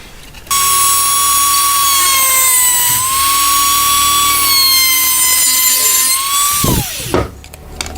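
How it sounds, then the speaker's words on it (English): A Dremel rotary tool cuts a Kydex knife sheath in one steady, loud high-pitched whine lasting several seconds, then winds down abruptly near the end. "So I'm going to take the Dremel and removing with as little material as I can."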